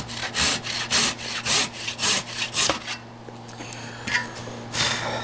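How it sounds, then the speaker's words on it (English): A hand saw cuts dovetail waste in a wooden workpiece, rasping in a steady run of about eight strokes, then pausing before a few lighter, scattered strokes, close and clear with no talk. "So the first thing I'm going to do is cut the bottom square."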